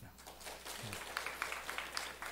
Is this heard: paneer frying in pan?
no